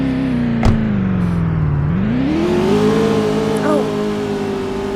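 Rusty rally cars driving past, an engine note dropping then climbing as it revs, fairly close and steady, with a brief knock near the start.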